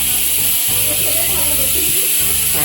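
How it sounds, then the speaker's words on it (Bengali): Pressure cooker on the stove letting off a continuous sharp, steady hiss of escaping steam, close and loud, while a person briefly speaks over it. "কুকারে আওয়াজ হচ্ছে"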